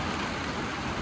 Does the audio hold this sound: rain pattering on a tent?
yes